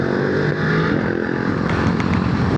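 A Voge motorcycle accelerates hard on a test ride, its engine a steady, loud, rough drone with a dense throb that stays constant and close throughout.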